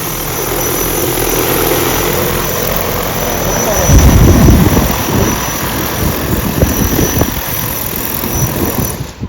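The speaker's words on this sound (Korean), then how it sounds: "자, 테스트 비행 간단하게 이런 식으로라도 비행하시기 전에 시행을 해주세요." An agricultural spraying drone on a test flight drones loud and close, its rotor whine steady before a gusty rumble swells as it lifts and moves; a voice is briefly heard.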